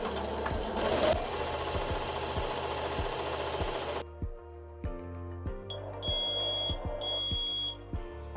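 An embroidery machine stitches yellow puffy foam onto flip-flop straps with a fast, steady mechanical chatter. Partway through it drops to slower, distinct thumps, and a few short beeps sound near the end.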